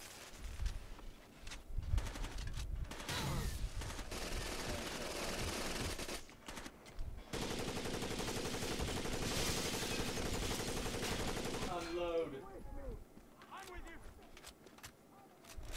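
Gunfire in the video game Rainbow Six Vegas 2, sustained bursts of shooting over several seconds mixed with game noise, with people talking over it.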